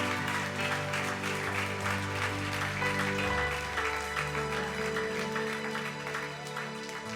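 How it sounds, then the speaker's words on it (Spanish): A church congregation applauds the Lord during a service, sustained crowd clapping layered over steady sustained musical tones, continuous and moderately loud throughout. "Dale un fuerte aplauso al Señor."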